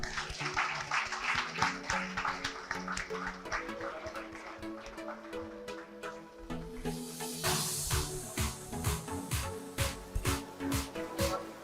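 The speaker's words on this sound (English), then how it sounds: "The clapping shouldn't stop." An audience clapping during an awards ceremony for school English excellence, dense continuous applause over music, growing brighter and more energetic in the second half.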